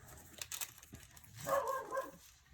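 Dog barking indoors, a few soft, muffled yips and barks in the background, fairly faint and distant, with light rustling of paper nearby.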